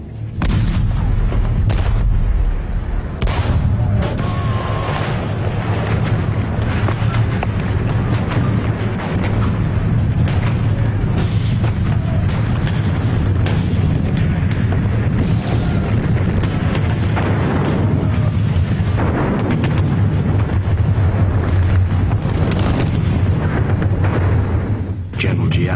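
An artillery bombardment in the assault on Dien Bien Phu, 1954, sounds as a continuous loud rumble of booming impacts and sharp cracks, with voices speaking over the din at times.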